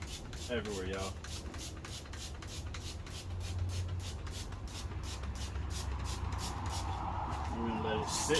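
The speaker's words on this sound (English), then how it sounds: "So I'm literally just spraying it everywhere" Degreaser is hosed across the engine bay of a 1991 Honda CRX Si, giving a steady, continuous spraying hiss that runs unbroken from start to finish.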